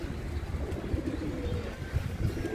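Pigeons cooing softly at close range as birds are released to fly, a low burbling coo repeating over faint background rustle, with no talk.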